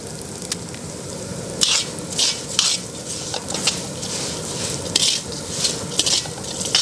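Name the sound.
black pepper frying in oil for sambar tempering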